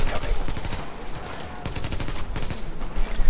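Sustained gunfire in a video game, a steady loud stream of rapid shots with scattered louder bursts, continuous throughout with no pauses.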